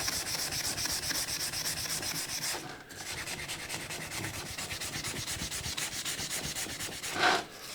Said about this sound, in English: All I want to do is remove the rust.